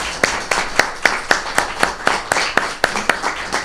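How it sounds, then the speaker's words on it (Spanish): Sparse clapping from a conference audience, heard as a handful of distinct, fairly close hand claps in an irregular rhythm over about four seconds rather than a full ovation. "yo le pediría un aplauso"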